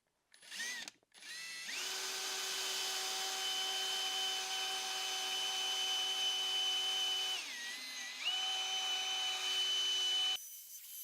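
A drill-mounted polishing pad buffs the frets of a Sigma acoustic guitar with polishing compound, a steady high whine and rub lasting several seconds, dipping briefly in pitch midway before stopping abruptly.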